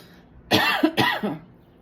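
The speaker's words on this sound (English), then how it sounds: "Me just coughing" Two short, harsh coughs in quick succession, close and fairly loud, with quiet surroundings before and after.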